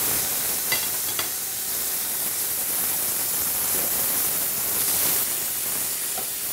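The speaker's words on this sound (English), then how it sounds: "I'm going to sear the other sides as well" Swordfish sears in a hot pan with a steady, dense sizzle and hiss, a few sharp crackles popping through, close and even throughout with no talking.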